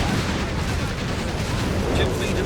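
Whiz-bang rocket artillery fires in Company of Heroes 3, a desert DAK versus USF battle, making a dense continuous rumble of launches and blasts that runs for the whole stretch, with a brief brighter burst near the end.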